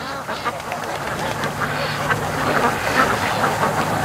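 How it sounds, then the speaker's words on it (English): Flock of ducks coming out of a creek, a busy overlapping chorus of quacks and chatter at moderate distance, continuous throughout. "The ducks are all coming out."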